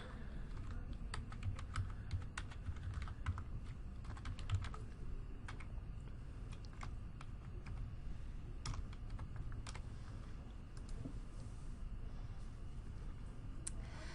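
Keys clatter on a Surface keyboard as a username and password are typed to log in, a steady run of quick close taps with brief pauses and no talking.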